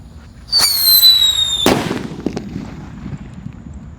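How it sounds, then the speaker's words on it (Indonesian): A jumbo Pearl Thunder firecracker goes off with a bright crackling fizz followed by one loud, close bang that rolls away into a fading rumble and scattered echoes. "yang akan kita nyalakan di sini ada Pearl Thunder yang ukuran jumbo"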